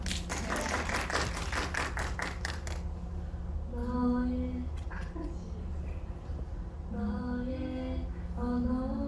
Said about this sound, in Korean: 박수를 보내드릴까요?